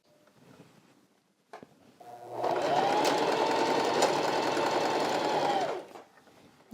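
A sewing machine with its lower tension set too loose runs steadily for about three seconds, a dense mechanical whir that starts and stops abruptly, with quieter handling noises before it.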